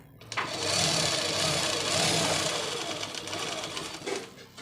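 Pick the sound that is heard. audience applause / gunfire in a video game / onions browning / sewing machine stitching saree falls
sewing machine stitching saree falls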